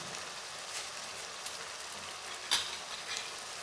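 Potatoes fry in spices inside a covered pan, giving a steady soft sizzle throughout with a few brief brighter crackles and pops, close and alone with no talking.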